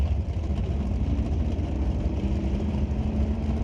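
A Pontiac drag racing car at an NHRA Canadian SPORTSnationals qualifying session gives off a steady, moderately loud engine rumble that holds without a break throughout.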